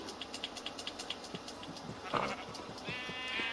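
Sheep in the video game Minecraft bleat repeatedly in short wavering calls, several overlapping at close range over a steady in-game background.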